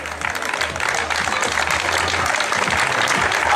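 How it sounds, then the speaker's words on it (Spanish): Crowd applause rings out steadily at the finish of a small-town road race, the Carreira Carneiro ó Espeto in Moraña, as runners come in; a dense, continuous, fairly loud clapping with a low hum underneath. "Máis aplausos, Moraña, que non decalla."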